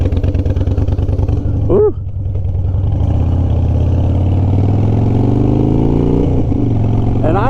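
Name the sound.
motorcycle engine revving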